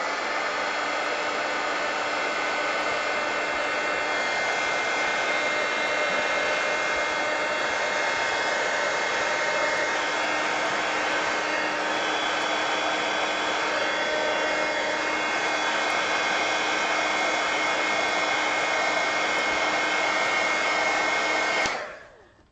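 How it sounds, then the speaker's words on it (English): A heat gun drying freshly painted art cards runs as a steady, loud, unbroken blowing roar for about twenty-two seconds, then cuts off at the end, with no talking. "Let me just real quick hit them with the heat gun."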